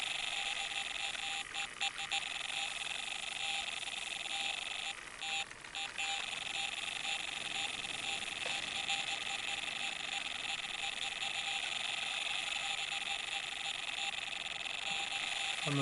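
Fishing Sim World bite alarm beeping steadily, a continuous electronic tone pulsing at a fast regular rate, moderately loud, with a few brief interruptions early on.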